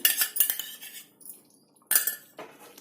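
A metal lid clatters onto a pan of chicken angara curry with a few sharp clinks, followed by a quiet pause and another short rattle of cookware, close by with no talking.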